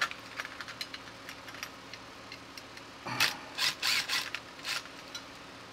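Screws are backed out of a Ford 30-cell battery module: faint ticks, then a burst of quick ratcheting clicks from a hand tool, close and fairly quiet.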